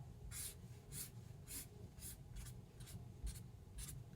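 A pen or marker sketches electric field lines on a board or page for an electrostatics lesson: about nine evenly spaced scratchy strokes, one roughly every half second, close and clear over a low steady room hum.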